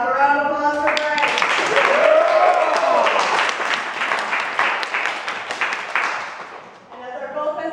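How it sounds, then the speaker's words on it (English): Audience applauding a fencer before a gold medal fencing match, a crowd of clapping hands with some cheers, starting right after a voice and tapering off before talk resumes. "Let's have a round of applause for Greg."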